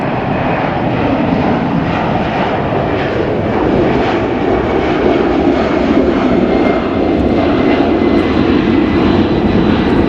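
An airplane flies low overhead near a Los Angeles construction site, a loud, steady engine roar that fills the whole stretch without letup.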